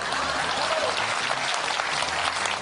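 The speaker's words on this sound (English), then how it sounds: "Please clap." A crowd at a Jeb Bush campaign event claps together in a fairly loud, even spell of applause lasting a couple of seconds, with a faint low murmur beneath.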